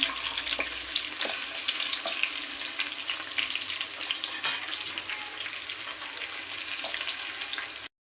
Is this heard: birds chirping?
no